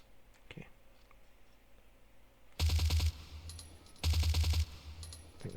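Modded silenced rifle firing in the video game Project Zomboid, two loud rapid bursts of clattering shots about a second and a half apart, with quiet clicks and game sounds between them.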